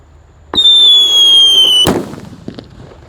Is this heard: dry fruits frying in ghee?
no